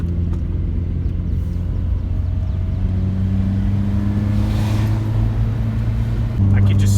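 Honda Civic Si FA5 engine with a Q300 exhaust holds a loud, steady rumbling drone, rising slightly in pitch near the end as the revs climb, with a voice faintly audible underneath.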